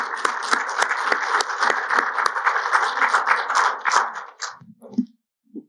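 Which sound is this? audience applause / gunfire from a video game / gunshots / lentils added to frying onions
audience applause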